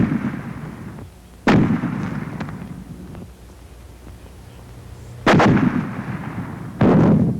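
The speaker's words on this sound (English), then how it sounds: "The fragmentation grenade." Fragmentation grenades explode in three loud, heavy blasts, each a sudden sharp bang followed by a rumbling, rolling roar that fades before the next, no voices.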